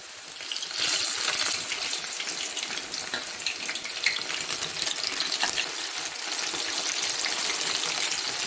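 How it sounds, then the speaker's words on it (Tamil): Corn snacks deep-frying in hot oil, a steady, loud crackling sizzle with dense bubbling that swells briefly near the start and holds evenly throughout, no voices. "இப்போ அதை கொஞ்சம் கொஞ்சமாக நம்ம பொரித்து எடுத்துக்குவோம்."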